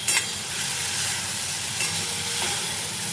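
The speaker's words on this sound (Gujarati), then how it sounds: "હવે બધી વસ્તુને સરસ એવી મિક્સ કરી લેશું।" Chopped tomatoes and a spoonful of sugar sizzle in hot oil in a pan as they are stirred, giving a steady close hiss with faint scraping.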